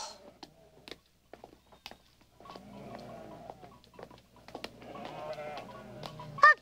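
A herd of goats bleats in scattered, overlapping calls at moderate distance, with soft pattering hooves and light movement in between, growing busier toward the end.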